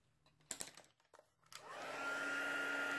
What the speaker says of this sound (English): Use my heat tool to dry it.